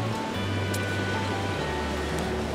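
Ocean waves washing steadily on the shore beside a campfire night, a dense continuous surf roar with a low hum underneath.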